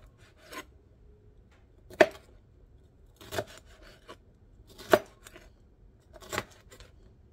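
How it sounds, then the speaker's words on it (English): Knife chopping food into little cubes for pico de gallo on a cutting board, a series of sparse, separate chops at irregular intervals, fairly faint and close, with no talking. "So we're gonna cut it into little cubes."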